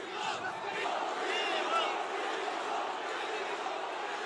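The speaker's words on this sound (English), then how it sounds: "The crowd willing Bivol on." A boxing arena crowd cheers and chants for Dmitry Bivol during his undisputed light heavyweight title rematch with Artur Beterbiev, a loud, sustained roar swelling and holding without a break.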